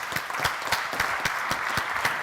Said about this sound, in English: So if everyone could give her a massive round of applause